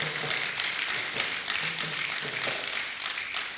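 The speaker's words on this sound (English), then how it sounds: "Please, I think he deserves an applause." Audience applause at a public lecture in honour of a Nigerian senator, a steady dense wash of clapping that holds evenly throughout without voices on top.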